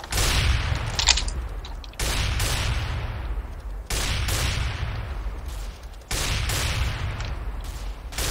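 Gunfire in Counter-Strike: Global Offensive, with four loud, dense bursts of rapid shots. Each burst is separated by a brief dip in sound, and no voices are heard over it.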